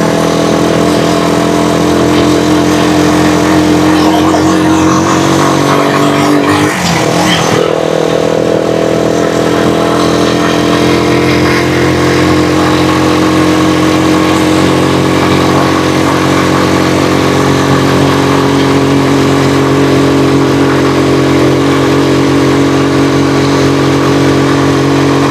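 A Rusi Chariot 175 motorcycle climbs a steep mountain road carrying ten water containers. Its engine drones loud and steady close by, with a rough labouring tone and a short disturbance partway through, and no talk is heard.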